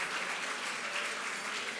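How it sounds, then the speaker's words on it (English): Banquet crowd at a film critics' awards dinner breaking into applause, a dense, even wash of clapping from many hands held steady throughout, no speech. "let's applaud for good movies"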